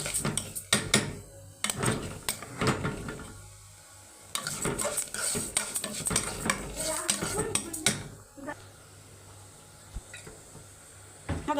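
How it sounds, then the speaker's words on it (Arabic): Red rice for a fish dish being stirred in a cooking pot, with repeated scraping and clinking of a utensil against the metal, close and fairly loud, some sizzling underneath and a brief voice now and then. "بفضل اقلب فيه اهو"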